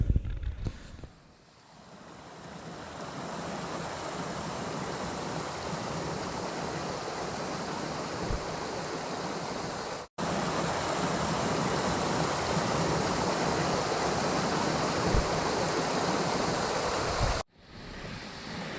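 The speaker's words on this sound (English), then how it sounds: "I've just come across a waterfall" Water flows over rocks at a waterfall in the Wye Valley by the rapids at Symonds Yat, a steady, full rushing roar close by that briefly cuts out twice, with no voices.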